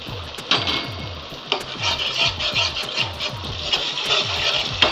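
Ginger and chili paste masala with tomato paste is stir-fried in a pan, giving a steady scraping, shuffling rhythm of spatula strokes over a soft, continuous sizzle, close and fairly loud.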